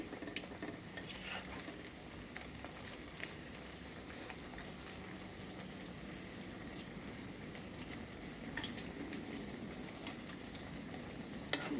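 Pumpkin leaf fritters fry in oil with a soft, steady bubbling sizzle, broken by occasional light taps and scrapes of a utensil against the pan.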